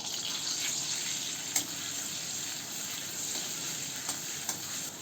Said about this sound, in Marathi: तूप तापलं का त्यामध्ये मिरची, लसूण आणि आलं टाकूया.